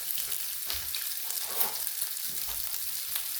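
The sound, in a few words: bacon frying in a pan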